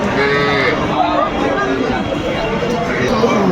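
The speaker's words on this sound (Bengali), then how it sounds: "এটা হচ্ছে গাভী বেশ সুন্দর" A cow at a busy cattle market lows in a long, loud moo close by, with crowd chatter and voices throughout.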